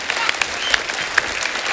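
A television show studio audience claps loudly for the Demolition Crew dance group, a dense, steady burst of applause with a few sharper claps standing out.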